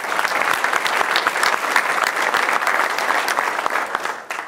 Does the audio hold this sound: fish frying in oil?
no